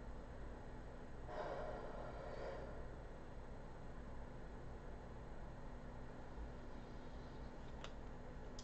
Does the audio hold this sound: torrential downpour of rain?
no